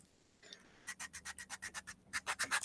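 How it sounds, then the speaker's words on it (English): Hand sanding back a painted surface produces a quiet, close series of rhythmic rasping strokes, about a dozen quick back-and-forth passes with a brief pause in the middle. "I'm going to just be sanding this back down again."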